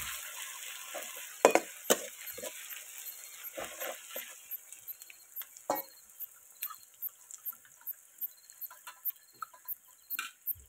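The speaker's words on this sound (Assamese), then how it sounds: "আদা পেষ্ট আৰু নহৰু যি খুন্দি ৰাখিছিলোঁ পেষ্ট বনাই সেইখিনি দিছোঁ। ভালকৈ লৰাই দিছোঁ।" Ginger garlic paste is stirred into mutton frying in a pan, a steady low sizzle under a regular series of close spoon taps against the pan.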